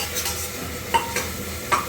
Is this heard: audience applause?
no